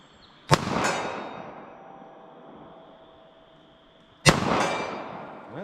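Two sharp pistol shots from Federal HST .380 ACP rounds, about four seconds apart, each a loud crack with a ringing decay, with a steady high whine beneath.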